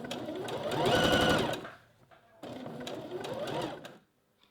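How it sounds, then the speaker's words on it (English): A domestic sewing machine stitches elastic onto a lingerie-style garment in two steady motor-driven bursts, the first rising and falling, the second shorter, with a brief quiet gap between. "So now we've got the elastic sewn in"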